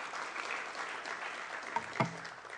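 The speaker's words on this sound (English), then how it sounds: "Give him a round of applause" Applause for a panel speaker at a Senate committee session on science and entrepreneurship, a faint, distant patter of clapping from a modest audience with a couple of sharper knocks near the end.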